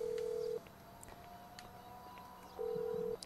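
Phone ringback tones while calling a taxi company in the video game GTA V, two long steady beeps separated by a silent pause, heard faintly and up close.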